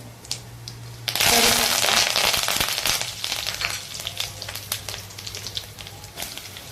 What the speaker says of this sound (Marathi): मोहरी चांगली तडतडली की त्यामध्ये